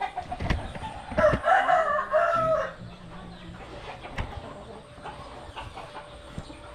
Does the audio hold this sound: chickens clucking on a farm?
yes